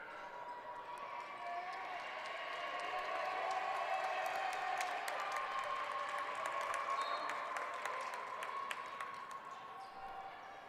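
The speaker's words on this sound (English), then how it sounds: "we hear some cheering as Isaiah Hanley and Jeremiah Cherry" At a men's college basketball game, the crowd cheers and applauds at moderate distance, the noise swelling in the middle and then easing, with ball bounces and sneaker squeaks scattered through it.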